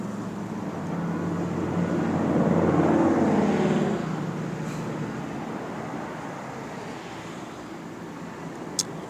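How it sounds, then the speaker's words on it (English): An airplane passing overhead near Ontario International Airport at night, a broad rumbling roar that swells to a peak and slowly fades away, heard alone outdoors. "Another plane,"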